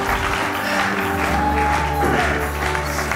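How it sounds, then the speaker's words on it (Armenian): An audience on a sports club show applauds in a steady, loud burst of clapping, with faint voices and background tones mixed underneath. "Բարձր ծափարենք, բարձր, շատ բարձր"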